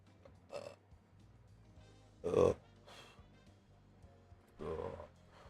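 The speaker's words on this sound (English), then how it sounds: "Give me a second, burp." A man gives a couple of short, loud, close burps amid quieter murmurs and breaths.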